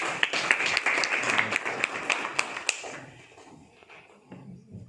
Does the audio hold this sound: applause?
yes